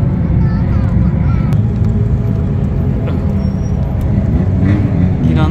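A car's exhaust and muffler rumble at Fuji Speedway, a steady loud low drone filling the whole stretch with faint higher engine tones above.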